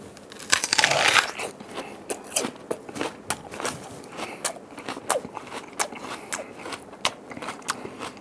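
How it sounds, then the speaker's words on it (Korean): Peeled raw onion, washed, bitten and chewed up close: a loud crunchy bite near the start, then a long run of regular wet crunching chews with no talk. "양파를 깨끗이 씻어서 준비를 했습니다. 제가 한번 여러분들과 같이 한번 먹어보도록 하겠습니다."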